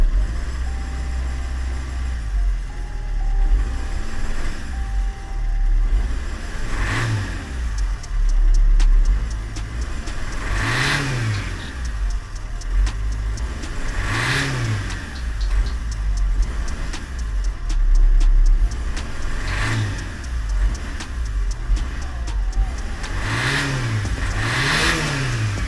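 A car engine under repair revs repeatedly at close range, rising and falling in several distinct surges over a steady idle, with no talking.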